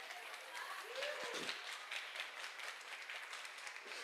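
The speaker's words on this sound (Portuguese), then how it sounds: "Aplauda o Senhor" A church congregation at a worship service claps in steady applause at moderate distance, with a voice rising briefly over the clapping.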